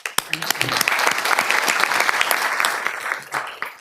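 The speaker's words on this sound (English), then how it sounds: "want to give you a hand clap." Council meeting attendees break into applause for a board chairwoman, a burst of hand claps that swells quickly, holds steady for a few seconds, then begins to thin out.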